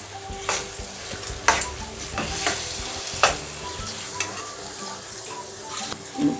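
Prawns sizzle and fry in a pan for a Telugu gongura prawn dish, with steady crackling and repeated scraping stirs of a spoon against the pan, close and continuous with no talking.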